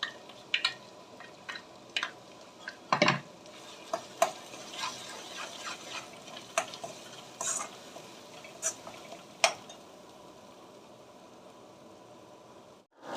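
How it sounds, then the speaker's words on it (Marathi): Onion and coconut paste is sautéed in oil in a pan, with soft sizzling and scattered clicks and scrapes of stirring at close range. "कांदा खोबऱ्याची पेस्ट छान तेलावर आधी परतवून घेऊया"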